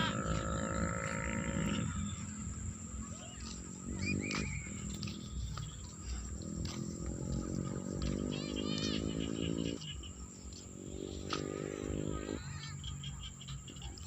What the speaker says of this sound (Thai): เสียงเขียดเสียงเขียดจะนาห้อง บรรยากาศบ้านนา